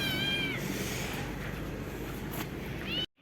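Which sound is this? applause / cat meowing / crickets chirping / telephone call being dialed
cat meowing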